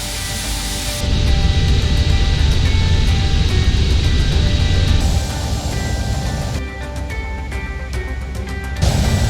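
Boeing 737-800 taking off in a flight simulator, a loud continuous roar of engines and rushing air that swells, eases slightly midway, then rises again.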